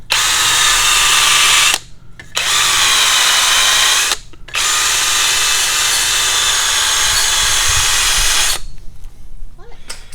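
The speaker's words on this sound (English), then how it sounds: "So we'll just weld it on." Tack welding a plate onto a Dana 30 axle: loud, steady arc buzz in three long runs separated by short pauses, trailing into quieter shop noise at the end.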